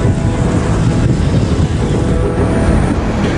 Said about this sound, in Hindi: जहां कल तक गाड़ियों की आवाज सुनाई देती थी, अब वहां नाव चल रही है।